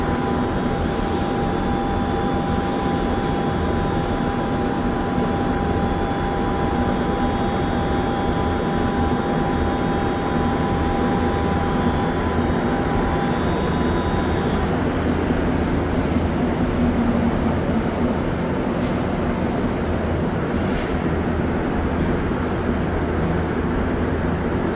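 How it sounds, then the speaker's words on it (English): A metro train pulls into a station at night while the listener waits aboard another train: a steady, loud rumble of rail noise with faint tonal whines, holding constant throughout. "There's the Culver 2 train pulling in down there"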